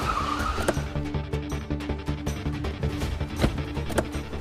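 A car in a Hindi TV drama skids to a halt, with loud tire squeal and engine noise filling the scene.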